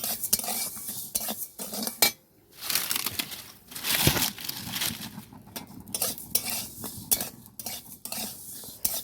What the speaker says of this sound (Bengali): চালটা দেখুন আমি ভেজে নিচ্ছি।